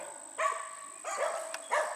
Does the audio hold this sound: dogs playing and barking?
yes